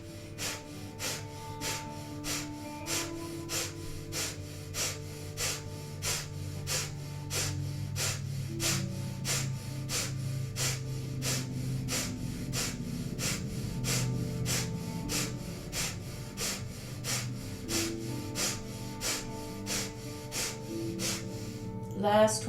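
Rapid, rhythmic breath of fire in a Kundalini yoga practice: quick forceful nasal exhales pumped at a steady fast pace throughout, close and continuous, with background music underneath.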